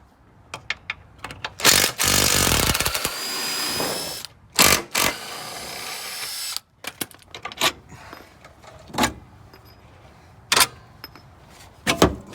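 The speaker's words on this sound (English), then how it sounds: "You can take it out with the power tool to 14." Short bursts of a power tool whir and rattle removing a bolt from a Honda Civic's rear lower control arm, one longer spin near the start, followed by scattered clicks and clanks of metal parts.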